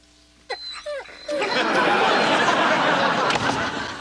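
Hungry dogs in a sitcom scene give a few short, high whimpers and yelps, quickly drowned by a loud burst of studio audience laughter and chatter that carries on.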